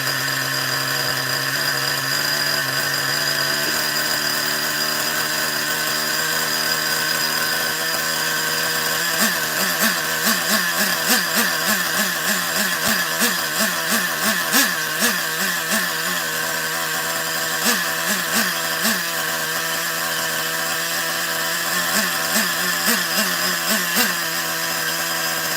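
A small OS .21 TM nitro model engine runs steadily at a high, buzzing pitch, then from about nine seconds begins surging with rhythmic revving bursts that come and go through the rest of the clip, close and loud, with no talking.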